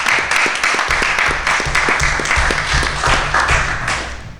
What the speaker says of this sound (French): Et c'est là qu'on applaudit.